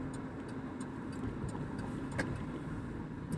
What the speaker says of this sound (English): Lots and lots of traffic.